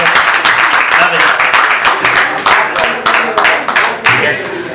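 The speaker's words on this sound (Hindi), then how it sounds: "हमारी एंकर के लिए एक बार फिर से तालियां हो जाए" At an open mic poetry and music event in Bhopal, an audience claps in a steady, loud rhythmic beat for the anchor, with voices mixed in underneath.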